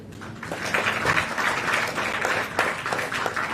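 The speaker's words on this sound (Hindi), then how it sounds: "तालियां।" Steady applause from a crowd at a state-level awards ceremony, dense clapping that holds at an even level throughout.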